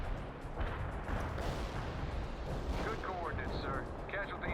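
Artillery shelling rumbles in the real-time strategy game World in Conflict: Soviet Assault, with repeated deep booms and blasts rolling over one another at a moderate distance while a player talks over them.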